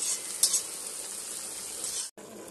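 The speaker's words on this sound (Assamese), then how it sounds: "মছলাখিনি ভালকৈ নভজালৈকে ভাজি থাকিব লাগিব" Masala spice paste mixed with curd fries in a pan for a homemade Assamese fish curry, a constant close hiss and sizzle with faint stirring scrapes near the start and a brief gap near the end.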